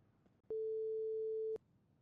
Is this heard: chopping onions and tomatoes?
no